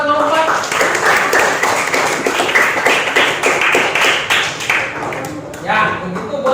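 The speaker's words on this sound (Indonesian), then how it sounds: "Beri tepuk tangan buat kelompok 4" Classroom applause for a student group: a crowd of students clapping steadily and close for several seconds, with voices mixed in among the claps.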